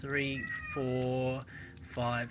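A house cat meows several times, drawn-out rising and falling cries close by, with a man counting aloud between and over them.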